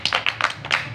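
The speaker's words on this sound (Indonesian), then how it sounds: "tepuk 1, tepuk 2, tepuk 3, tepuk 1, tepuk 2, tepuk 5" A group of children claps together during a school counseling activity, about half a dozen close, crisp claps in a quick, slightly uneven pattern within a single second.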